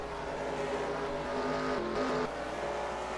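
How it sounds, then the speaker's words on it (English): Rally race cars, a Citroen Xsara and a Ford Focus, racing at Sonoma in a sim rally series, with a steady engine drone whose pitch rises and shifts as the cars battle, heard moderately loud without talk. "Battle for 8th going on here between the Citroen Xara and the Ford Focus"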